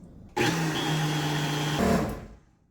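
A food processor blends roasted beet hummus in one steady, loud whirring run of about two seconds, starting abruptly and winding down at the end, with no talk.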